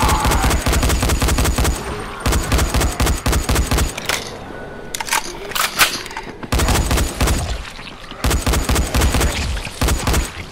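Rapid automatic gunfire in the zombie game Dying Light, loud bursts of repeated shots with a short lull in the middle before the shooting resumes.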